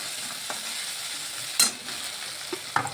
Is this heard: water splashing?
no